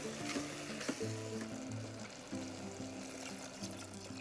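Cilantro and chana sizzle and fry in a pan, a continuous low crackle and bubbling close by, fairly quiet, with no talking.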